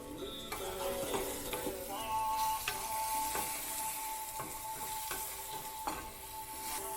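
Plant-based mushroom bacon seasoned with salt and black pepper being stirred in a pan, with soft sizzling under a string of clicking, scraping utensil strokes at an uneven rhythm, close and fairly quiet.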